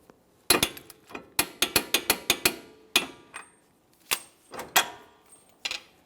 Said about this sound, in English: I'm going to torque this to 180 foot-pounds.